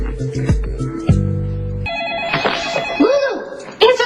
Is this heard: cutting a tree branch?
no